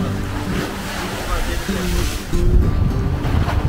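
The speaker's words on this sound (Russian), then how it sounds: "Такое вот, видите, зимнее море волнуется." Rough winter sea waves break along a waterfront promenade in Didim, Turkey. The surf churns steadily with gusty wind buffeting the microphone, and the sound swells louder toward the end.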